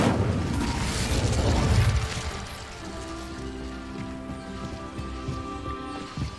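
An Incendio fire spell cast in the video game Hogwarts Legacy, a rushing, crackling burst of flame that fades after about two seconds into a quieter ambient bed with faint tonal hum.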